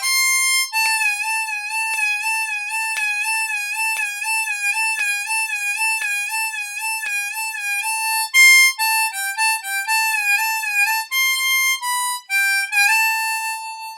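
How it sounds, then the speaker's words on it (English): Harmonica playing the outro of a song, a steady melodic line of clear, bright reedy notes with wavering bends and a long held draw note, loud and close with no talking. "There's a long held 6 draw in this for about 4 bars."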